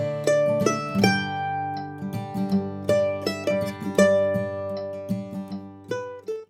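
A mandolin plays the simple core melody of a bluegrass tune, a steady run of plucked notes with ringing sustain and no talking.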